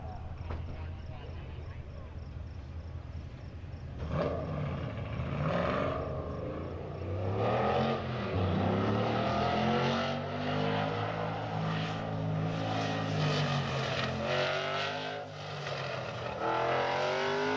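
An orange, half carbon fiber 1969 Camaro racing on an autocross course, its engine rising and falling through repeated revving and acceleration at moderate distance, with voices talking over it.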